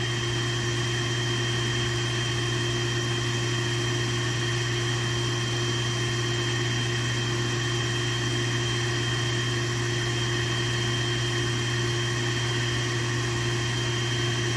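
A handheld dryer runs continuously while drying a Havanese puppy, giving a steady, loud, unchanging motor whir and airflow hum throughout.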